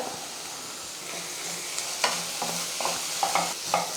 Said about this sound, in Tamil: இன்னும் ஒரு நிமிஷத்துக்கு வந்து வெங்காயம் வந்து நல்லா வதங்கட்டும்